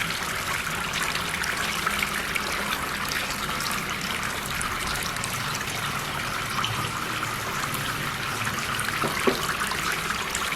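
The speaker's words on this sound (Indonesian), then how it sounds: "Jadi air mengalir akan seperti ini." Water trickles steadily from an upper bucket down into buckets below in a homemade filter setup for breeding betta fish, a constant close splashing hiss with no pauses.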